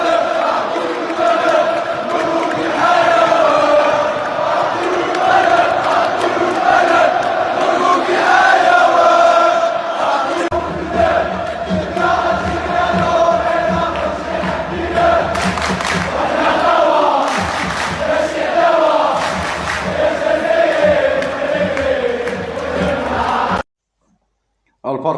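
Moroccan and Algerian football supporters massed in a stadium, chanting together in a loud, sustained roar with rhythmic group singing and cheering that cuts off abruptly near the end.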